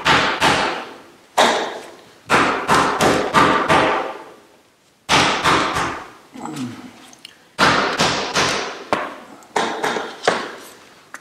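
Sharp, close clicks and knocks come in quick bursts of three to five, separated by short pauses, as cut parquet floorboards snap together during installation.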